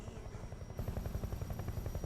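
A helicopter in the video game Metal Gear Solid Delta: Snake Eater beats steadily with rapid, even rotor thumps, fairly faint, with a thin high whine entering partway through.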